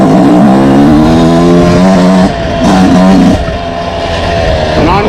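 Yamaha YZ125X two-stroke dirt bike engine ridden along rocky trails, loud and close, with the revs rising and falling through throttle changes and shifts, sometimes dipping into a lower drone.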